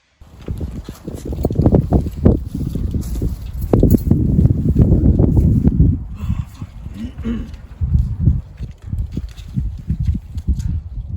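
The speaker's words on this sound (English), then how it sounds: "Okay, so it's a bit windy. It's going to be hard to hear me" Loud, rumbling wind buffets the microphone in heavy low gusts, with a voice talking faintly underneath.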